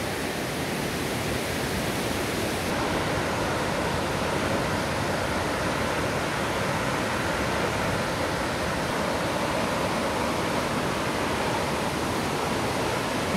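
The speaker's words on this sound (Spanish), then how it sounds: "De aquí podemos ver una parte de Cascada del Chiflón." Cascada El Chiflón waterfall roars as a constant, dense rush of falling water heard from along the trail, loud and unbroken throughout, with no talking.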